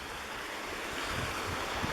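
A waterfall stream flowing through a culvert into a river at Deep Creek, heard as a steady, broad rushing wash of water that stays even throughout, with no voices.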